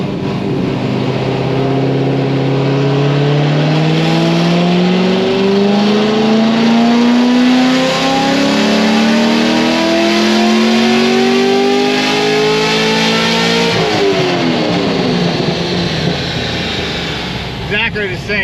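An LS7 V8 fitted with stage 4 cylinder heads and a cam, screaming through a full dyno pull, its pitch climbing steadily for about fifteen seconds before dropping off. Loud and close throughout, with voices heard over it.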